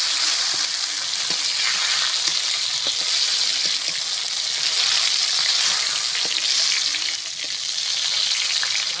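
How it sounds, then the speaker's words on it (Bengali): Potatoes and taro crackle and sizzle loudly in hot oil, a continuous dense frying hiss with occasional soft pops. "মাছের ঝোলের আলু আর কচুটা আমি একসঙ্গে করে ভেজে নেব"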